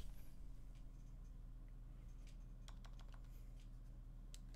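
Light, scattered keystrokes on a PinePhone Pro keyboard accessory, a few quick clicks clustered near the end over a faint steady hum, quiet and close.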